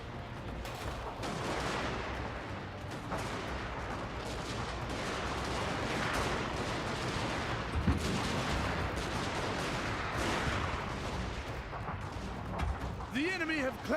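Rifle volleys and artillery fire from a Shogun 2: Fall of the Samurai battle form a dense, continuous rumble of shots and blasts at a distance, steady throughout with some sharper bursts.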